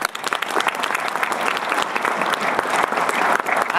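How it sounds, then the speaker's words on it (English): Dense, steady audience applause fills the whole stretch at a Colonial Williamsburg historical reenactment event, loud and continuous with no voices over it. "I applaud you, monsieur."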